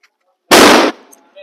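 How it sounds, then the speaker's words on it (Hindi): A single sharp, loud firecracker bang bursts out during Diwali and lasts a split second before fading into crackling echoes, with faint noises around it. "पटाखे"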